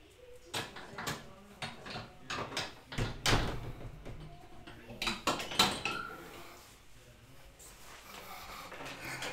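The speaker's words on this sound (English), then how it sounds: "let me close the door real quick." A dining room door being closed indoors, with several sharp knocks, clatters and thumps spread over a few seconds and faint household noise around them.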